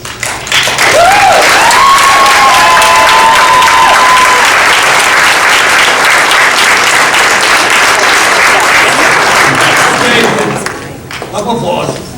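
Loud, sustained applause fills a school board of education meeting room after a motion passes, with a brief whistle early on; the clapping holds steady for about ten seconds, then fades as a voice begins speaking.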